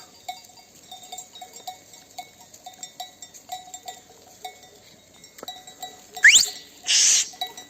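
Sheep graze in a pasture wearing bells, repeated light clanking and tinkling at an uneven rhythm, fairly close, followed by a couple of louder bursts near the end.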